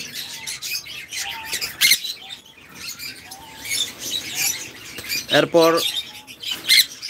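Pet birds squawk and chirp in a farm aviary, with short harsh calls and a loud burst near the middle, heard under someone talking throughout.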